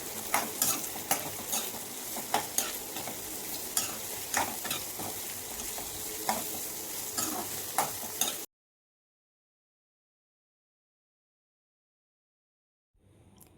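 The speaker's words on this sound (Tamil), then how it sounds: "ஒரு 4 பச்சை மிளகாய் இதையும் சேர்த்து நல்லா மிக்ஸ் பண்ணி வதக்கணும்." Sliced onions and green chillies sauté in a pan for a mutton curry, with a steady close sizzle and repeated rhythmic scrapes of the stirring spoon, then a sudden long silence.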